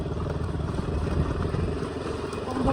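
Motorcycle carrying two riders labors slowly along a rough, dusty road, its engine drone steady and strained close up, with wind rumble throughout.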